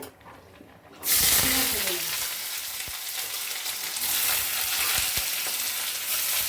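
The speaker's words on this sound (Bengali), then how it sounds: "আর একটু মূলো ভাজবো" Radish pieces sizzling loudly in hot oil in a pan after a quiet start, a steady broadband fry with occasional clinks and a brief voice underneath.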